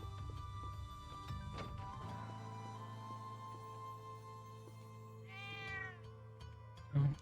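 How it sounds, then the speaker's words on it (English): A cat meows in the video game Trails of Cold Steel II, a short run of rising, wavering cries near the end of a quiet musical background, followed by a brief thump. "Oh, Cat."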